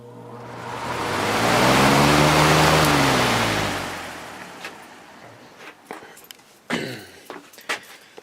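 A Patton 20-inch box fan with a 2.6 amp Macmillan motor on its high setting swells into a loud, rushing whoosh over a low motor hum, then fades away, followed by scattered clicks and knocks.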